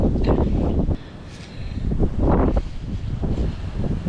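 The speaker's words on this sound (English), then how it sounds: "It's super windy right now." Strong gusts of wind batter the microphone, swelling and easing in loud rumbling bursts with a rustling hiss in between.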